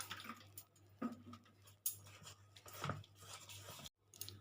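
A small amount of water goes into a semolina batter for a spiced masala cake, with close, soft pouring and stirring sounds and occasional clinks of a utensil against the bowl.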